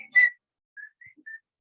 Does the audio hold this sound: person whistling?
yes